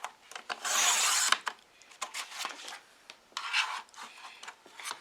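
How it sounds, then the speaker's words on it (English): A piece of card for Christmas cards is cut with short rasping, scraping strokes in separate bursts close by, the first stroke loudest and later ones fainter. "So I'm actually going to cut a piece that is 7 inches by 5 inches."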